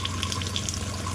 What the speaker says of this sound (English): we're going to run water to the gray tank again